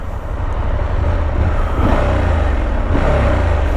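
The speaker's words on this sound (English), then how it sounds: "The exhaust note is nothing to shout home about. It's quite tinny." A KTM 890 SMT sports-touring motorcycle accelerates with a thin, tinny exhaust note, heard as a steady engine drone that rises through two short surges under heavy wind rush.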